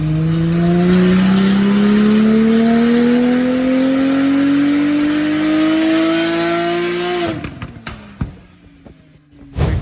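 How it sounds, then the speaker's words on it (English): Porsche 991.2 fitted with an ES800 upgrade kit roars on a dyno, one long loud pull with pitch climbing steadily for about seven seconds, then cutting off abruptly into crackles and quieter idling. "And then we will go again on the dyno."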